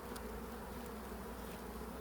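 Spring honeybees at a hive swarm ahead of the mountain cherry blossom bloom, giving a dense, continuous, close-up buzzing drone that stays steady throughout without any voices.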